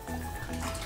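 A brief trickle and drip of salt water as a siphon hose is lifted out of an aquarium tank, close and short-lived.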